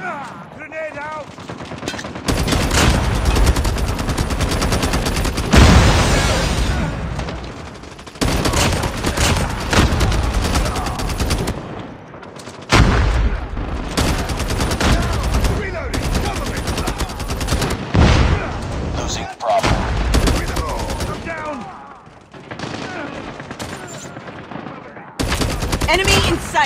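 Call of Duty Mobile 10v10 match gunfire: loud, near bursts of automatic rifle fire come in repeated volleys with short gaps, and faint voices sound between them.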